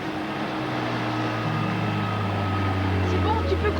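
A boat engine drones steadily with a low, even hum that carries on without a break, while people talk over it.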